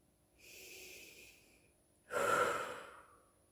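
Slow, deliberate breathing close to the mic: a soft drawn-out inhale followed after a pause by a louder, fuller exhale, with no talking.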